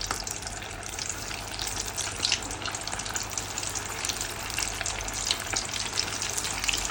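Fried chicken cooking in hot oil makes a continuous, even sizzle and crackle at moderate volume, steady from start to finish with no voices.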